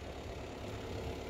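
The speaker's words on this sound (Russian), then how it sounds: "Трактор, что ли, идет? Вот, видите, чистят тротуарчики. Тракторок идет." A small tractor clearing sidewalks of snow runs steadily in the distance, a continuous low engine rumble with no talk over it.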